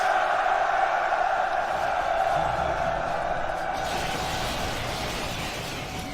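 Roman soldiers cheering before the advance in a Rome Total War battle in Libya: a continuous massed roar of many voices that stays loud and steady throughout.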